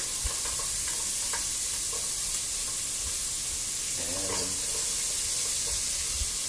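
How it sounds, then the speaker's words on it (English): Onions and garlic sauteing in butter in a pan give a steady, fairly loud sizzle and hiss, with a few stirring scrapes and clinks throughout. "just dump onions in first. And the garlic."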